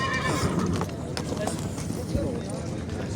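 At a horse market near Bishkek, a horse neighs and hooves clip-clop amid a busy outdoor crowd, with people talking throughout over the steady bustle.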